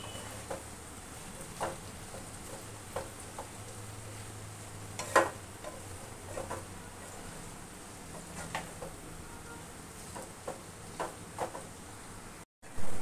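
Semolina noodles are stirred in a pan with a spatula, giving scattered scrapes and light knocks over a quiet background sizzle, one sharper clatter midway, with no voices.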